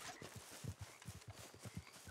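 A horse walking in the video game Red Dead Online, soft rhythmic clip-clop hoofbeats in a steady gait, quiet and close.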